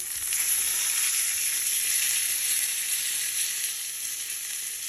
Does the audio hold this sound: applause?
no